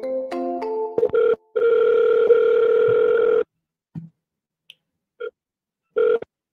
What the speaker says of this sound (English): We will double dial. Always double dial.